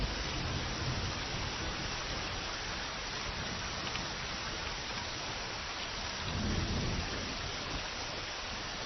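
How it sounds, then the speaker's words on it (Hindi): Steady heavy rain pours down without a break, a dense hiss close by, with a low rumble of thunder swelling briefly near the end. "बारिश हो रही है"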